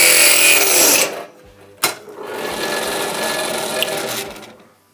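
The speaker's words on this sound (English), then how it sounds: "I'll go straight to the 8mm HSS cobalt drill" A steady high-pitched 8mm HSS cobalt drill whine cuts through a metal shear bolt in a motorcycle ignition barrel, pauses briefly with a sharp knock, then grinds on at an even pitch before winding down.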